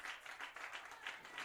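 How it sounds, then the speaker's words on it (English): A crowd applauds a starting pitcher leaving a college baseball game against Mount Marty; the clapping is soft and distant, a steady patter of many hands. "And he'll get a nice round of applause"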